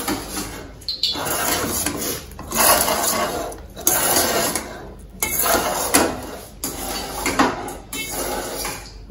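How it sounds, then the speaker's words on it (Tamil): Metal spoon scrapes and clanks steadily against a pot while lemon rice is mixed, a close, repeated rhythmic scraping with brief pauses between strokes. "இப்போ எலுமிச்சம்பழம் சாதம் கலந்து ரெடியா வச்சாச்சு"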